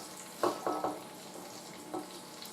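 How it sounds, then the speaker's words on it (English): Soft, steady frying sizzle of garlic in a pan, with a few sharp clicks and scrapes of stirring at intervals. "The garlic's sizzling along now."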